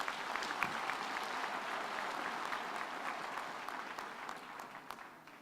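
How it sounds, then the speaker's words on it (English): Audience applause at a university graduation ceremony after an instrumental ensemble performance, a dense, steady clapping from a large crowd that holds throughout and slowly eases off toward the end. "I think they deserve a better round of applause."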